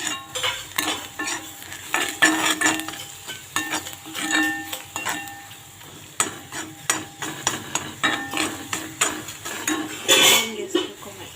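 Soya chunks and potato fry in a pan while being stirred, with repeated sharp metallic scrapes and clinks of a spatula against the pan over a low sizzle; a voice speaks briefly.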